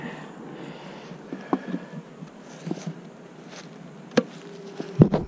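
Honey bees buzzing while two-frame mating nucs are loaded, a soft steady hum from the bees broken by several sharp knocks and clicks of equipment being handled.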